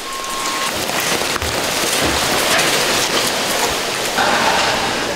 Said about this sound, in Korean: 예고에 없던 소낙비가 내리는 오후.